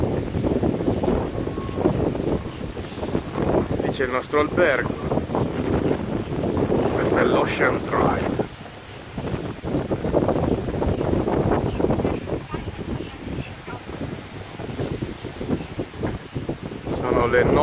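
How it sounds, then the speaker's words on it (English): Strong wind on Miami Beach by Ocean Drive roars loudly and continuously across the microphone, dropping briefly midway, while someone talks over it throughout. "c'è molto vento oggi"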